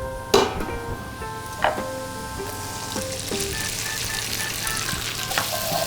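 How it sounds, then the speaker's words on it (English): Tagliatelle and spices sauté in a hot pan with a steady, close sizzle, broken by a few sharp clinks and scrapes as everything is stirred together. "I'm giving everything a good mix, sauteing the spices as well so that they release all their aroma"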